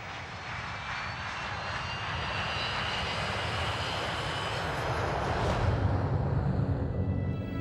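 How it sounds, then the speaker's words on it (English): Tupolev Tu-154 jet airliner of Bashkirian Airlines in flight: a steady, broad engine roar that swells slightly louder toward the end, heard alone without voices. "Bashkirian Airlines Flight 2937 leaves Moscow. The plane is a Tupolev Tu-154."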